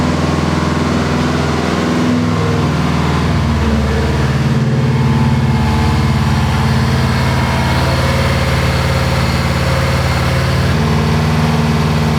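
Subaru WRX GC8 rally car just started after a sump and catch can install, its engine idling steadily and loudly up close with a deep, rumbling hum and a slight shift in tone early on.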